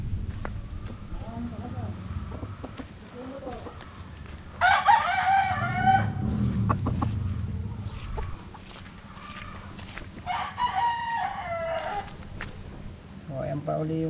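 Young roosters (stags), newly harvested, crow repeatedly, faint to moderate, with scattered clucks and hoof-like clip-clop noises in the background and people talking over them.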